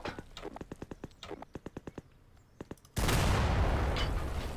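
A powerful gunshot in Garry's Mod, using the GredWitch's Pack mod, bursts in loud and sustained after a run of rhythmic clopping knocks, its roar holding steady to the end.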